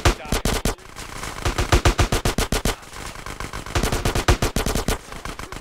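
Rapid automatic gunfire in the video game GTA San Andreas, loud bursts of closely spaced shots with short gaps between volleys, close and harsh.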